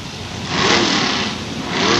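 A 1939 Willys drag car with a 355 cubic inch engine, a loud, steady engine roar close by, holding and swelling slightly across two seconds at a drag strip.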